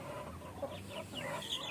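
Soft, scattered clucking from laying hens nearby, a few short calls rising over a low background hum, with no talking.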